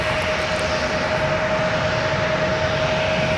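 Aircraft at O'Hare Airport, a steady broad engine roar with a constant tonal hum, continuous and fairly loud throughout with no talk.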